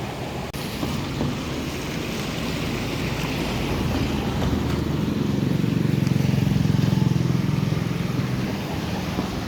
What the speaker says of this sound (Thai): อันนี้ครับเป็นแม่น้ำวังนะครับ